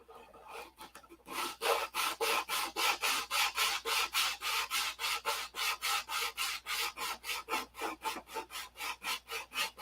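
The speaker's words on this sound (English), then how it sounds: "This is the most important part to a finish right here, sandpaper." Sandpaper worked back and forth across an epoxy (Z-poxy) finish in fast, steady strokes, roughly three per second, close and continuous with no talk.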